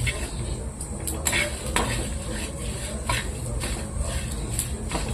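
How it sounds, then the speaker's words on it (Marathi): Fennel seeds, dried red chillies, bay leaf, cinnamon and cloves dry-roasting in a pan over low heat, with repeated metallic scraping and clinking of a spatula over a soft hiss, close by and without speech. "बडीशोप, टंकेश्वरी मिरची, तेजपत्ता, दालचिनी, लवंग हे सर्व असं भाजून घ्यायचं."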